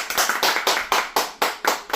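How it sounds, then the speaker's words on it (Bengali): An audience claps loudly for Akshay at a Puja offer event in a computer shop, a dense burst of applause that swells in steady waves and carries on without a break and without voices. "আর অক্ষয়ের জন্য একটা সবাই মিলে জোরে হাততালি।"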